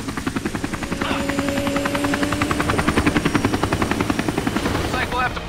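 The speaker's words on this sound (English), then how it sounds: "This is Chamin Su's chopper." A helicopter in Army of Two thuds with steady, rapid rotor chops over a loud engine whine, close and constant, with voices speaking over it.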